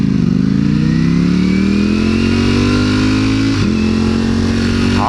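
A Lamborghini engine revving loud and close, its pitch climbing steadily, dipping briefly near the end and then holding high, with no voices.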